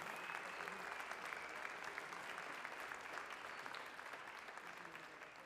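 An audience at the Sirha food-trade awards ceremony for the Cheese & Chef contest claps in a thick, continuous wash of applause, fairly distant and uniform, with faint crowd murmur beneath.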